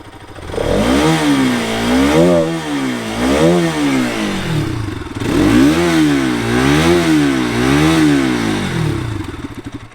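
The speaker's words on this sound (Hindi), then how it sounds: "इसका एग्जॉस्ट नोट सुन लेते हैं" A Bajaj Pulsar RS 200 (2021) motorcycle exhaust revs up close, with repeated throttle blips rising and falling in two loud bursts separated by a short settle back toward idle.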